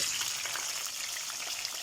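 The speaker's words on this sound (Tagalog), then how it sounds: "Prito tayo ng isda" Steady, crackling sizzle of tampano fish frying in hot oil, constant and close, with small pops scattered throughout.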